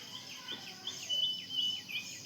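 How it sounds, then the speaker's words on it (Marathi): Birds chirp in the quiet early morning after overnight rain, a faint scatter of high, thin calls repeating over a soft background hiss. "कशा सकाळी सकाळी पक्ष्यांचा आवाज घुमतोय."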